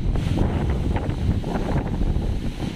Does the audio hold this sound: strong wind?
yes